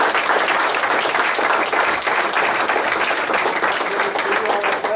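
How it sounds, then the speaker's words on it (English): A room full of people at a board meeting applauds warmly, with dense, even clapping held at a steady level for the whole stretch. "Let's give a round of applause."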